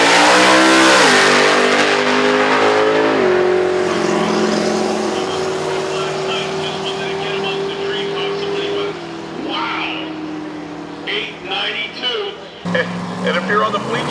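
Drag race car launching and accelerating down a quarter-mile strip in elimination racing, a loud sustained engine roar rising in pitch then holding steady, with an announcer talking over it and crowd noise in the background.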